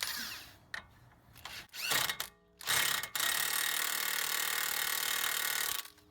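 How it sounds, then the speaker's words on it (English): A power tool tightens the axle nut on a Chrysler Town and Country minivan during a CV axle replacement: short bursts and a ratcheting stutter, then a long sustained whir, close and loud, with no talk. "We're going to tighten that axle nut up."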